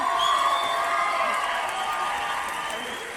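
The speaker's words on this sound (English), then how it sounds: "Can we get like a big round of applause for that?" A convention-panel audience at Comic Con 2015 applauds and cheers loudly and steadily throughout, a dense wash of clapping and voices with no pause.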